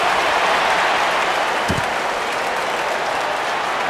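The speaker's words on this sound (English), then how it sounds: "The crowd doesn't seem so pumped up." Crowd noise in Madden NFL 25 after a field goal, a steady wash of applause and murmuring at moderate level, fairly subdued with one brief thump partway through.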